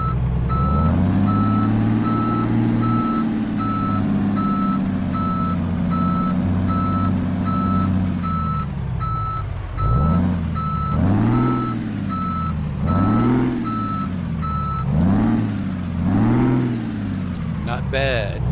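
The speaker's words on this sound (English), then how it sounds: "I never even bothered to even hear the sound of this truck yet." Freightliner Coronado truck idles with a deep steady engine rumble and repeated reversing beeps in American Truck Simulator, then revs up and down several times in rhythmic surges, loud and close.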